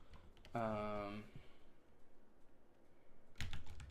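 A note is typed on a computer keyboard as quiet, scattered key clicks, with a sustained voice before them and a burst of speech after.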